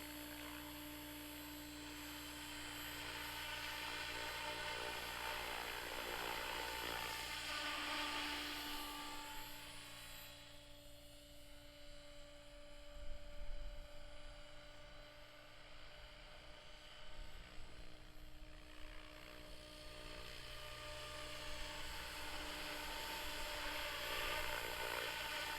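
A radio-controlled model helicopter flying intermediate sport maneuvers, its steady high-pitched rotor and motor whine continuous throughout, rising and easing as it stops, rotates and reverses direction at a moderate distance.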